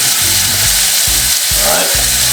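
Chopped vegetables and fresh thyme, with purple onion, peppers, spring onion and chocho, hitting a hot pot for Jamaican callaloo and okra: a steady loud sizzle with stirring and scraping knocks repeating about every half second, no talk.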